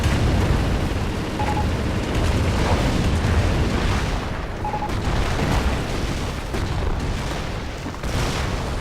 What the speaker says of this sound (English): Seeing a lot of artillery come down on that middle VP